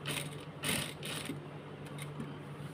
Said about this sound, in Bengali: এভাবে ঘুরিয়ে ঘুরিয়ে সিলাইগুলা দিয়ে শেপে শেপে সিলাইগুলা দিতে হবে।